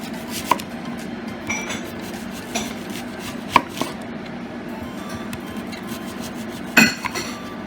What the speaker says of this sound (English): Okay, so I'm going to slice these.